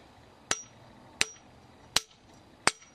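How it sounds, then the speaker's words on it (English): A heavy hammer strikes four times in an even rhythm, each blow a sharp, loud, close impact with a brief ring afterward and quiet gaps between. "So I'll get out my heavy hammer, my big hammer."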